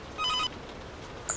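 A home landline telephone bell rings loudly in a short electronic burst, then a brief quiet gap before another ring starts, with no voices.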